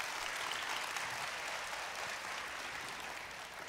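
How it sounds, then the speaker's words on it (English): An audience applauds steadily at a morning event, a dense wash of clapping from many hands that carries on evenly throughout, slightly distant and with no speech over it. "one more round of applause"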